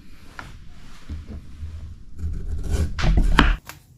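Food chopped with a dull kitchen knife on a board, several uneven knocks and scrapes that grow louder and quicker toward the end, then stop abruptly.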